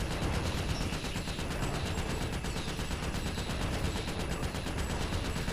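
Dense, continuous gunfire from the Ratchet: Deadlock video game, a steady rapid barrage of shots and blasts running without pause throughout, loud and close.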